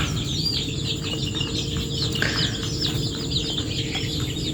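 Two-week-old chickens cluck and chatter steadily over a constant low hum, with several birds calling at once close by.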